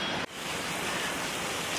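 Water pours constantly from a waterfall on a mountain road in Abkhazia, a loud, dense roar heard up close, broken only by a momentary dip near the start.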